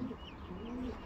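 Pigeons give soft, low coos close by, a brief murmuring call against faint background noise.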